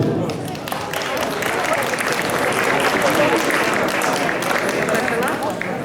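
A crowd at a ballroom dance competition applauds steadily, dense clapping filling the space for several seconds at an even level.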